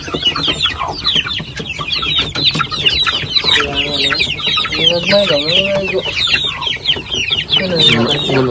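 Native chickens cluck and call repeatedly close by in a farmyard run, the dense overlapping cackles steady throughout with a brief rooster-like call near the middle, and no clear speech.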